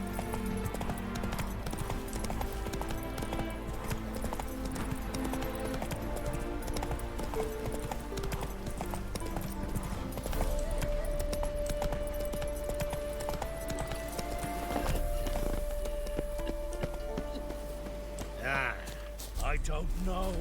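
Roach the horse galloping in The Witcher 3, a steady, driving clip-clop of hooves running throughout, with a whinny near the end, set against game music and ambient sound.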